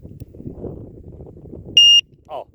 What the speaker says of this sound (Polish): Przyciskamy do usłyszenia sygnału lewy przycisk